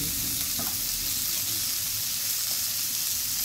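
Potatoes and vegetable stalks fry in a pan for a Bengali rohu fish curry, giving a dense, continuous loud sizzle with no pauses.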